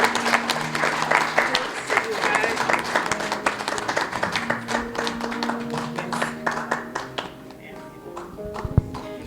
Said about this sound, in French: Je voudrais qu'on applaudisse Dr Marème Touré.